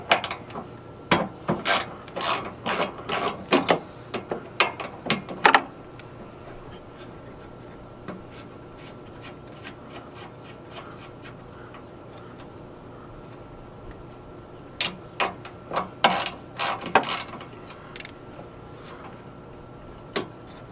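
Ratchet wrench loosening a 13 mm bolt that holds the radiator on a 2003 Dodge 2500 pickup during an electric fan replacement, giving two bursts of rapid close clicking separated by a quiet pause.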